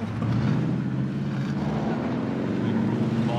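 A Jeep drives in Call of Duty Warzone Pacific, its engine a steady droning hum that holds evenly throughout, with no talk.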